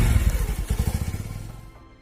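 A motorcycle engine runs close by with a rapid, uneven thumping idle that slows and fades over two seconds, no speech.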